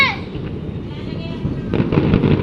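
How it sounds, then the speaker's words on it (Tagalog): New Year's Eve fireworks barrage crackling and booming at a distance in a steady rumbling wash, growing louder and denser toward the end, with people chatting nearby. "Ang dami pang fireworks."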